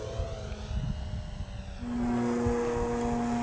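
RC 3D model airplane making a slow roll across a runway, its electric motor whining in a steady tone that shifts pitch and grows louder partway through as it passes, with no talk.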